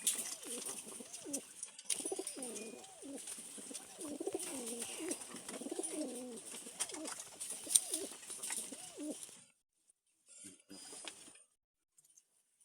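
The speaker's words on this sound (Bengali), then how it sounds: "কবুতরগুলো ছেড়ে দিয়ে দেখাচ্ছি" Released pigeons coo repeatedly close by, soft rolling calls over a faint rustle, falling quiet near the end with a few brief sounds.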